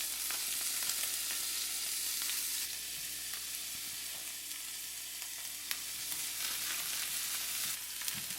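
Garlic and onions fry in oil in a pan with a loud, continuous bright sizzle, broken by occasional stirring scrapes and taps.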